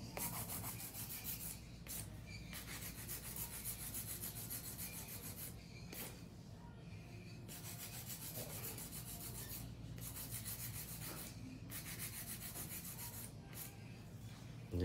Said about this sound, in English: I'm using it for hand filing, so it wears it out a lot